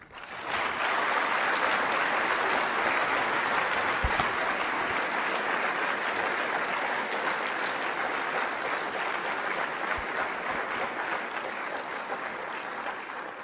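An audience at a 2014 student symposium welcomes keynote speaker Michael B. Mukasey with sustained applause, dense steady clapping from a sizeable crowd that starts abruptly and holds at an even level throughout.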